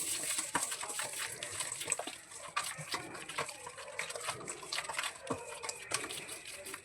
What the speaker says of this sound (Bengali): ওইটা ধুয়ে একটু জল দিয়ে দিচ্ছি।